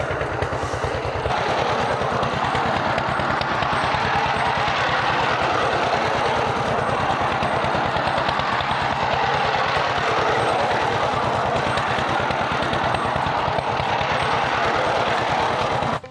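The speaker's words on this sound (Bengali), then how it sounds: "পাওয়ার টিলার দিয়ে ধান মাড়াই করতেছে" A power tiller engine driving paddy threshing on a Padma river char at Harirampur, Manikganj: a loud, close, continuous throbbing engine with a rapid regular chug that carries on unbroken throughout.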